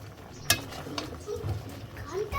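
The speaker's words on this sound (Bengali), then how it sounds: "নাড়াচাড়া দিয়ে নিচ্ছি, উলট পালট করে নিচ্ছি" Bottle gourd and shrimp are stirred in a pan on the stove, a spoon scraping and clinking against the metal in several irregular strokes over a soft sizzle, close by, with faint talking in the background.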